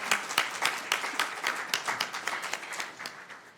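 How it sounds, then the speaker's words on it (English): At a Sacramento City Council meeting, a modest group applauds Child Action's 50th anniversary, with distinct individual claps audible in a loose, uneven rhythm that thins out toward the end. "Round of applause."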